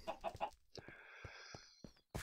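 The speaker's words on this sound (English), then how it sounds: "Hello chickens." A video-game chicken clucks in a few quick bursts at the start, followed by a longer, wheezy, drawn-out tone and a sharp sound at the end, with no talking.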